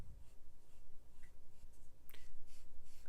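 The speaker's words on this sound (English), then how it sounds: "Drawing the armholes again." A pencil draws lines for a doll bodice pattern on embroidery stabilizer, giving soft, close scratchy strokes in short bursts with one sharper tap, quiet and with no voices.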